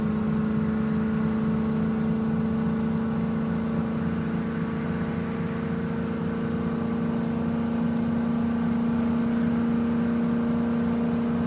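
A Mahindra Scorpio drives along a rural road, its engine holding a steady, loud drone with a constant low hum and no break or change in pace.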